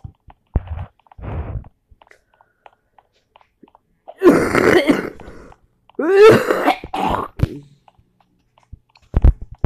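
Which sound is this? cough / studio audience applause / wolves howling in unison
cough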